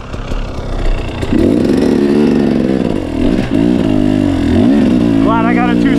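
Two-stroke KTM 250 XC dirt bike revving hard on Vermont singletrack, the engine climbing and dropping through several throttle bursts, loud and close throughout with a rising whine near the end.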